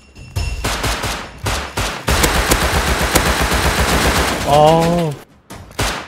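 Bursts of automatic gunfire from the video game Rust crack out in rapid volleys, some sustained and some in short clipped strings separated by brief gaps. A short exclamation comes through near the end.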